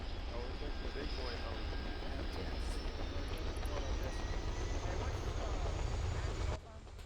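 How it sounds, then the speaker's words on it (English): Helicopter in a military video game flies low overhead, a constant loud rotor and engine roar with a whining tone that stays steady and cuts down sharply near the end. "Helicopter low."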